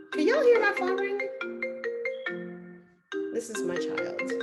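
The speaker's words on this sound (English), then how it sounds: "Can y'all hear my phone ring?" A phone ringtone plays as a melodic, electronic chiming tone, steady and fairly loud, with a pause partway through, while someone talks over it during an online talk.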